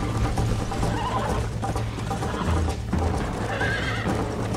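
A horse gallops in the video game Red Dead Redemption, with steady loud hoofbeats and a whinny over continuous game ambience, and no talking.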